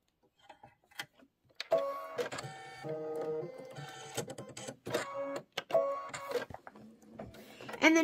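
Computerized embroidery machine stitching lettering in white thread, a rapid mechanical chatter that starts and stops in bursts with short pauses between runs, close and fairly loud.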